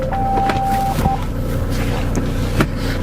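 A 2001 SsangYong Musso 4x4, a rough Daewoo-Mercedes built SUV, being started, a brief tonal whine followed by a loud steady engine rumble with a faint turbo note, close up.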